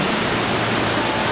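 Dettifoss waterfall in Iceland roars as a dense, steady wash of falling water all around, loud and unbroken, without talk.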